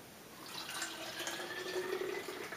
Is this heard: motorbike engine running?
no